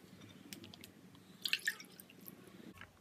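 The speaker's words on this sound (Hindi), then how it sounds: "हम यहाँ पे इसको छान लेंगे।" Soaked green tea and neem water, left several hours in warm water, strained through a sieve, with faint drips and small trickles falling into a bowl, quiet and close with no talking.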